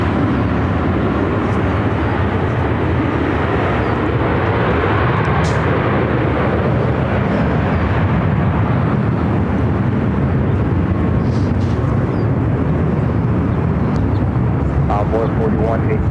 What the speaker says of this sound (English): This JetBlue A321-200 is going to be headed to JFK.